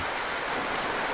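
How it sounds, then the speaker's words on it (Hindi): Stream water flows in a steady, dense rush that stays loud and close with no pauses over a short stretch. "बहता हुआ पानी"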